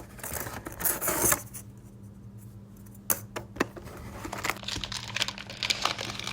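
UFC trading card packs being ripped open by hand, giving crinkly foil crumpling and tearing in short bursts with quieter pauses between, close and alone with no talk.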